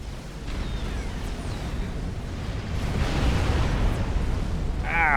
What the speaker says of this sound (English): Looks like almost like multiple Tech 3 artillery shells now incoming.